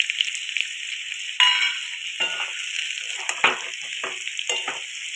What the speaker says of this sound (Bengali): আমটা দেখুন ভালোভাবে ভাজা হয়ে গেছে